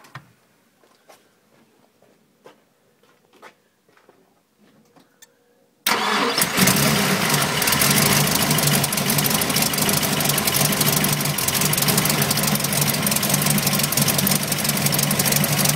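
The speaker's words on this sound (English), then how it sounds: "So I'm just going to start the car." A 1965 Ford Mustang engine cranks and catches after a quiet stretch, then settles into a loud, steady idle with a dense, constant rumble that runs to the end.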